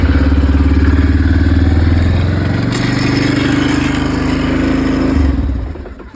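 A small engine idles loud and close while its carburetor is adjusted and choked, with a steady throbbing rumble that shifts pitch partway through before fading out at the end.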